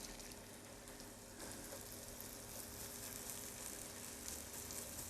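Sweet corn fritter batter frying in a hot pan makes a soft, even sizzle that hisses quietly throughout.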